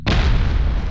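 A single loud, close explosion booms in the video game Stalker Anomaly, a sudden deep blast that fills the moment and rolls on as a rumbling tail.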